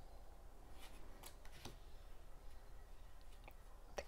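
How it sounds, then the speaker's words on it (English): Tarot cards being shuffled in a quiet room, giving soft, faint riffling and a few light clicks and taps scattered over a low steady background hiss. "The cards shuffle beautifully."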